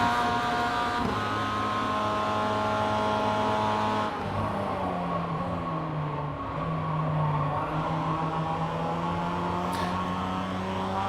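A Mazda MX5 race car in iRacing at full speed around Summit Point, its engine a loud, continuous buzzing drone with a gear change near the start and pitch dipping and climbing through corners.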